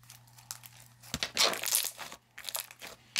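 Chewy textured slime being squished and pressed, giving bursts of crinkly popping and crackling that come in clusters, fairly close and moderately loud, with brief quieter gaps between handfuls.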